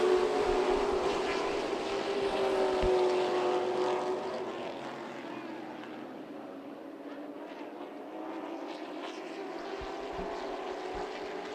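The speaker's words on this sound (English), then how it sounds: "Stock car racing on a Saturday night here." Stock cars racing at Myrtle Beach Speedway, a loud sustained engine roar with a strong droning pitch that fades somewhat midway, then a steadier distant rumble of cars circling the track.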